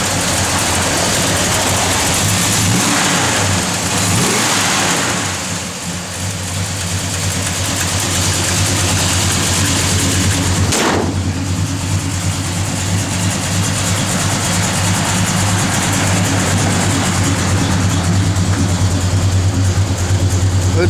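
A 1970 Dodge Charger with a 440 six-pack engine and a Comp cam runs at idle, a steady low loping rumble held for the whole stretch, with a brief dip and a sharp transient near the middle.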